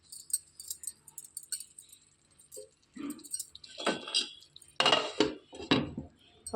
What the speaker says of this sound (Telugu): స్టవ్ సిమ్లో పెట్టేసుకొని మూత పెట్టేసుకోవాలండి.